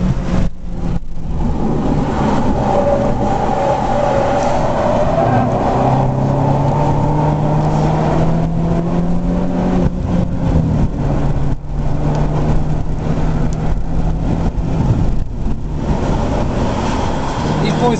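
Several BMW race cars are driven on a track, their engines droning and rising and falling in pitch as they lap. Commentators talk over the engine noise throughout.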